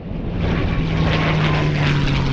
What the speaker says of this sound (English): a World War II P-51 Mustang fighter plane put on a spectacular show low over the river